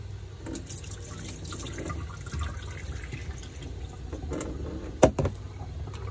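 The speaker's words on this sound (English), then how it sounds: "3 times of washing the rice." Rice rinsed under running water in a kitchen, a continuous low splashing and trickling with a sharp clink near the end, no speech.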